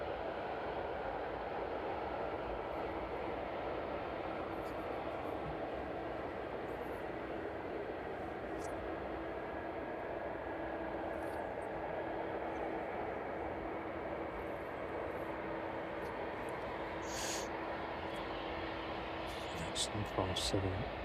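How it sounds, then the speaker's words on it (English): A Boeing 757 cargo jet taxis on the DHL apron at East Midlands Airport in the evening, a steady distant engine whine and rumble lasting throughout. "That's 757 just making its way around on the DHL apron."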